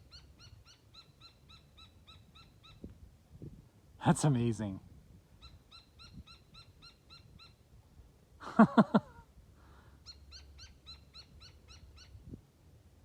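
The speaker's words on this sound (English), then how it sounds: "that bird, it's a noisy bird" Two bursts of a loud, harsh bird call stand out from quiet background, with a person speaking briefly near the end.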